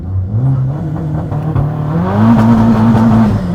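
Renault Megane RS with 360 bhp, heard from inside the cabin during a launch control start, its engine droning at a held pitch and then climbing as it pulls away, loud and continuous with no talking.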